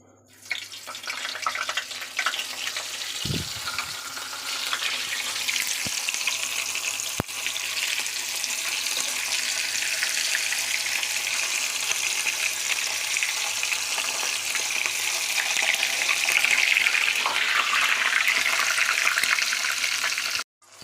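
Boiled bitter gourd pieces frying in hot oil on a stove, giving a steady, dense sizzle that runs unbroken and close for the whole stretch, with a brief clatter of stirring near the start and no talking.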